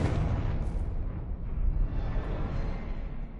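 A Confringo blasting spell in Hogwarts Legacy erupts in a heavy, rumbling explosion that roars loudly and then decays slowly over a few seconds.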